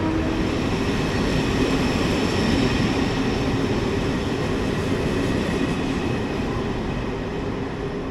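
A conventional passenger train on the Rabat–Tangier line in Morocco rumbles steadily and loudly throughout, a continuous rolling roar with faint high-pitched wheel and rail tones and no voices.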